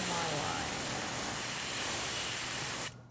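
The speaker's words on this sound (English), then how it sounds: "You ready for the spray?" An aerosol can sprays paint onto Warhammer Stormcast Eternals dragon miniatures in one continuous loud hiss of nearly three seconds that cuts off abruptly.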